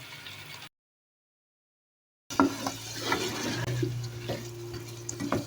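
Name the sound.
tomatoes frying and being stirred in a pot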